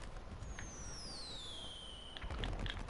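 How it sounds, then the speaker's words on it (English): A video-game firework launches with a high whistle that slides downward, then bursts with a crackling pop over a steady background rumble. "Fireworks!"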